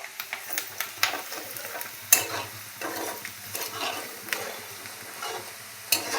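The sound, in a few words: onion frying in a pan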